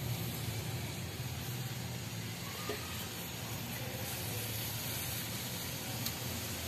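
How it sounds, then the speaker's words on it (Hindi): Raw chicken fries in cooking oil with a steady, even sizzle and hiss at low volume, unbroken throughout. "जो कच्चा चिकन है कच्चा गोश्त उसको हम जो है फ्राई कर रहे हैं"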